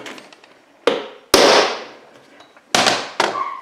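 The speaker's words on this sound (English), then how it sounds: "Go ahead and center punch it." Four sharp metallic strikes of a hammer on a center punch, marking a workbench for drilling, land at uneven intervals, each with a bright ringing decay, close by and with no talking.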